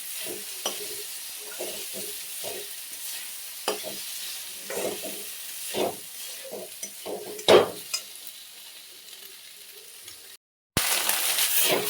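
Sago stirred and fried in ghee with a bay leaf in a pan, repeated scraping strokes of a spoon over a soft sizzle, irregular and close, then a brief gap and a louder burst of hiss.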